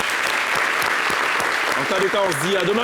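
A studio audience claps during a television talk show, the dense applause running under a presenter speaking, with a brief musical jingle rising near the end.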